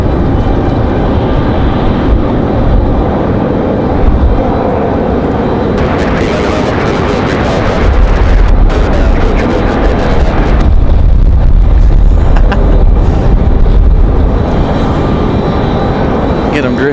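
A jet airliner takes off on a windy day at Raleigh-Durham International Airport, its engines a loud, sustained roar that swells and rumbles on under wind buffeting.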